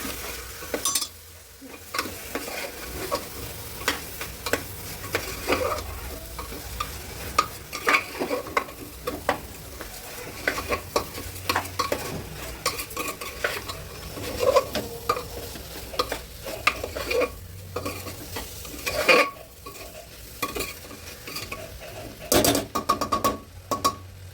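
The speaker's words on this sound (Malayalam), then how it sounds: "അരി ഇട്ട് കൊടുക്കാം. ഇനി നമുക്കൊന്ന് ഇളക്കി കൊടുക്കാം." Continuous stirring and scraping of rice in a frying pan for tomato rice over a steady sizzle, with a spoon knocking and rattling now and then throughout.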